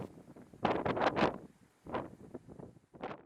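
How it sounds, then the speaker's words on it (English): Strong wind of about 30 miles per hour roars against the microphone in heavy gusts on a South Dakota pheasant hunt, rising and falling, with brief lulls between the blasts. "All of a sudden it went from windy to really windy. Hit 30-mile-per-hour winds"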